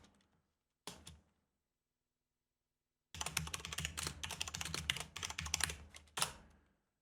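Keys clatter on a computer keyboard as a new preset name is typed: a couple of isolated clicks, a pause, then a quick continuous burst of typing ending with one firmer keystroke, close and clear.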